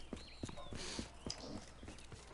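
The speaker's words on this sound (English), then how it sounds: "Oh, hell yeah, this horse jumps mad far." A horse in a video game gallops and leaps, its hooves clip-clopping in a quick, steady rhythm close by over a faint game background.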